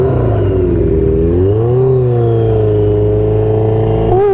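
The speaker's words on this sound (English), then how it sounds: "burning up that clutch" A car engine revs hard and holds there while the clutch burns, a loud, close drone that rises and wavers for several seconds. No one speaks.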